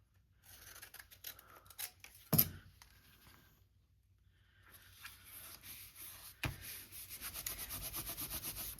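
Scissors snip and rasp through a mixed media book page, with a few short cuts, a sharp crunch, a pause, then a steady run of rhythmic close cutting strokes.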